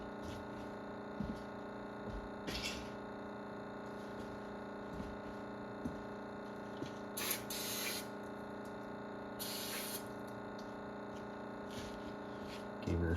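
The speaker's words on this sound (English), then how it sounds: "Gave her a spray with that." Short hissing bursts of aerosol brake cleaner sprayed on a Cub Cadet snowblower carburetor, two or three of them, over a steady mechanical hum and background rumble.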